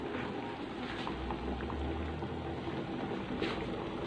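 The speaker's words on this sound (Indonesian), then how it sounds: "kuahnya sudah mendidih dan sekarang boleh masukkan dagingnya." Beef soup broth boiling in a pot, a continuous bubbling rumble with small pops and gurgles, steady and close, heard alone without speech.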